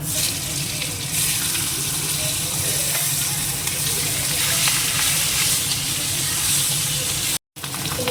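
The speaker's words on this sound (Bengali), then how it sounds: "এই মাছের মাথাটা ভাজতে দিয়ে দেবো" A hilsa fish head fries in hot oil in a wok with dried red chilli and cumin, making a loud, continuous hissing sizzle that runs almost without a break before a brief cut.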